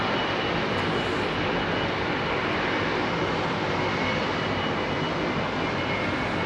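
An old United Boeing 777-200 airliner rumbles at Heathrow with a dense, loud, unbroken jet roar that holds steady from start to finish, with no voices.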